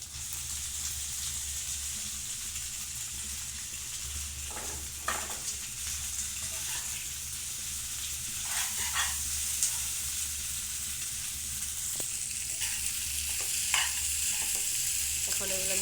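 Pasta being stirred into fried egg, onion and green chili in a pan, a continuous sizzle and hiss with scattered scraping clicks of the spoon, steady and close throughout without speech.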